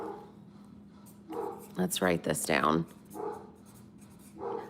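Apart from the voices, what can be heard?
dog barking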